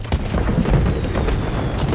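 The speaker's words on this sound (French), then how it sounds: "Les feux d'artifice, ils sont allumés." Fireworks in the video game Spider-Man 2: deep booms and crackling bursts roll over each other continuously, loud and dense like a cluster going off nearby.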